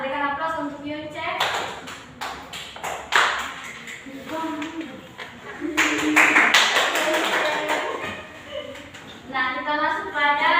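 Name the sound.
classroom applause for a student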